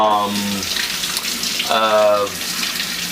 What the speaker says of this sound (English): Let me just rinse out this bowl.